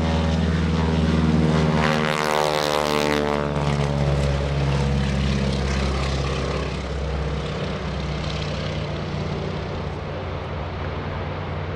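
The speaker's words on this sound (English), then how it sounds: "On the takeoff roll, here's Greg Shelton, 450 Super Stearman" Deep, throbbing radial engine roar of a 450 Super Stearman biplane on its takeoff roll at an airshow, loud and close at first with a rising propeller buzz, then steadily fading as it pulls away.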